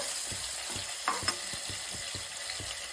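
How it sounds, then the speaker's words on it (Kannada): Chopped vegetables and peas frying in an oily pan for a vegetable pulav, a steady close sizzle with rhythmic scraping strokes of a stirring spoon and a couple of sharper clinks, with no talking. "ತರಕಾರಿ ಬಟಾಣಿ ಎಲ್ಲ ಹಾಕ್ಬಿಟ್ಟು ಇನ್ನೊಂದು 2-3 ನಿಮಿಷ ಚೆನ್ನಾಗಿ ಬಾಡ್ಕೊಳ್ಳೋಣ"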